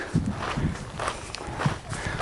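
Footsteps tread along a trail on a thru-hike toward dry land after swampy ground, a steady walking rhythm of soft low thuds repeating about every half second, close and moderately loud with no talk.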